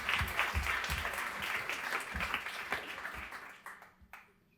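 An audience applauds with dense, steady clapping that gradually thins out and fades to near silence.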